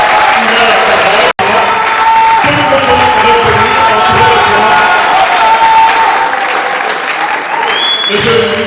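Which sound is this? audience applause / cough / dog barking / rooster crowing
audience applause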